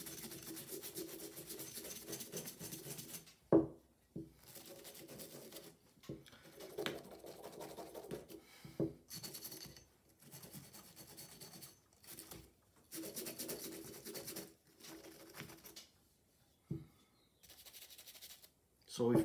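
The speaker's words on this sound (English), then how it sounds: "Now we're scrubbing the inside, both sides." Brush scrubbing the inside and outside of a Sig Sauer P365 pistol slide, close scratchy strokes in uneven bursts separated by brief pauses, with a voice talking at times.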